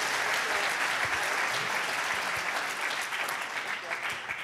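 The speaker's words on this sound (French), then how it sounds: "On peut applaudir" Audience applause at a sports awards ceremony, a broad steady wash of clapping from a hall crowd, moderately distant and fairly quiet, continuing throughout.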